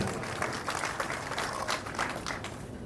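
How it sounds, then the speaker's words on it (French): Audience applause at a Dangote key-handover and league cup trophy ceremony in Senegal, a steady moderately faint patter of many hands clapping continuously with no voices over it. "Sous vos applaudissements, s'il vous plaît"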